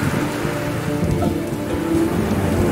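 Heavy rain pours steadily in a drama scene, a dense loud wash of falling water with low rumbling thunder underneath, no voices.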